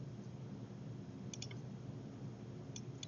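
Faint, sharp mouse clicks in engineering software, a couple of quick double clicks set against a steady, low background hum.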